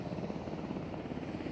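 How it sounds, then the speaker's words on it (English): A Black Hawk military helicopter carrying the governor and National Guard leaders gives a loud, continuous rotor and engine roar with a rapid thumping pulse, nearby and alone without speech. "entering the Blackhawk, our favorite helicopter"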